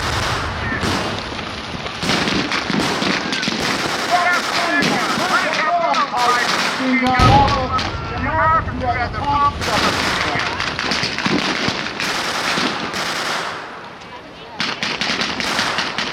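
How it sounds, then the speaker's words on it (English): Covering gunfire at a D-Day field battle reenactment with British and American troops, rapid bursts of rifle and machine-gun shots cracking out loud and repeatedly, with voices talking throughout. "And what we're doing is what's called covering fire."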